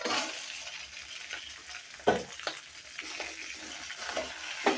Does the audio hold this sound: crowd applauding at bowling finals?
no